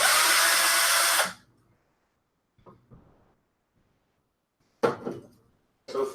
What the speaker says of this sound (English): this drill's not great, but it's done me well